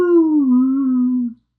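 A human voice imitates the howl of alien dog-like creatures from a video game, a single drawn-out, wavering tone that slides gently downward for over a second before cutting off abruptly, loud and close.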